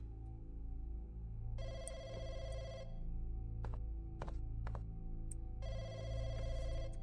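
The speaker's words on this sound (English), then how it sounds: "It's the phone in the public phone market." Public telephone in the game Firework ringing in two long bursts with brief clicks between, loud over a low humming background.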